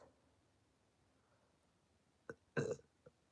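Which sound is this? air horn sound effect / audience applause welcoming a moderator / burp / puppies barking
burp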